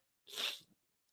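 A single sharp sneeze, close and breathy, bursting out and fading within about half a second, surrounded by quiet.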